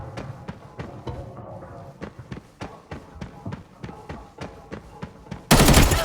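Rapid gunfire in a shooter video game during an armory lobby match: a dense string of sharp shots crackles steadily at close range, ending in one loud, sustained blast.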